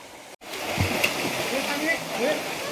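Rushing water of a village river in Konkan fills the scene with a steady hiss, broken by a brief cut near the start, while a voice speaks over it.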